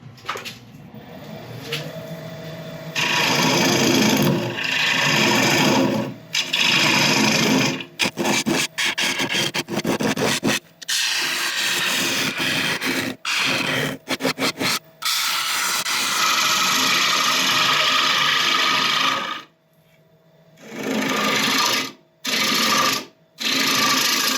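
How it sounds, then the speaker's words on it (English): Hollowing out wood on a lathe with a range of cuts, the piece held in a chuck with quick-change jaws: a loud, harsh, continuous scraping roar in long sustained bursts, broken by brief pauses and stops. "I'm going to start hollowing this out"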